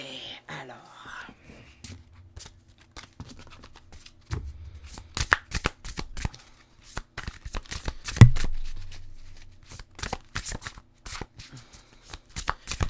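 Tarot cards shuffled by hand at a desk, a long run of quick crisp riffles and flicks with soft taps and one louder thump, close and clear against a quiet room.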